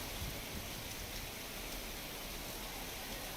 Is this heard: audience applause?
no